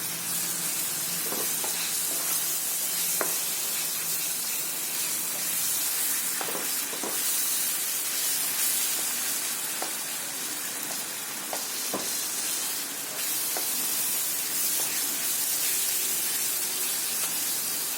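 Softened mango being mashed in a hot frying pan over raised heat, giving a steady close sizzle with scattered soft scraping and clicking knocks throughout.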